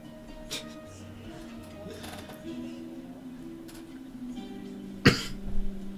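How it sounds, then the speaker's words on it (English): A single sharp cough bursts out near the end, loud and close, after a stretch of quiet mechanical hum and faint tones. "Why are you coughing?"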